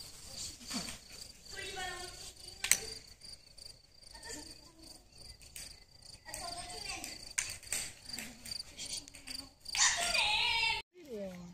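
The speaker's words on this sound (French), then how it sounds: "on a trouvé un beau grillon. C'est joli un grillon." A cricket chirps outdoors at a van-life camping spot, its steady high trilling running through the whole stretch, with brief bursts of other noise and a louder, denser patch of chirping near the end.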